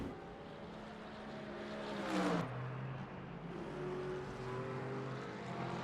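Hypercar engines howl around the Imola circuit in Le Mans Ultimate, with one car sweeping past close by in a rising and falling whine and other engines droning steadily behind it.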